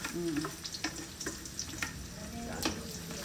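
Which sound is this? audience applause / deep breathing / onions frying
onions frying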